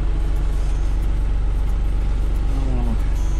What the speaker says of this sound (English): letting the tractor warm up a little bit.